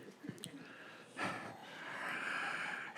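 A comedian's voice imitates a bulldog struggling to breathe, with snorting, wheezy gasps and a drawn-out raspy rattling inhale, close and fairly quiet.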